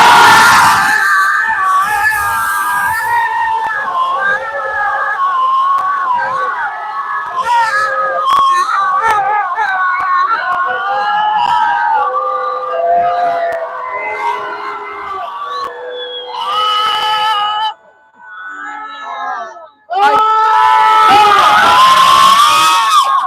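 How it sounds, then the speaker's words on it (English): A large crowd of students at an outdoor speakout screams together at full volume, a sustained, loud chorus of many voices that rises and falls for about twenty seconds, dips briefly, then surges back. "I want you to scream as loudly as you can."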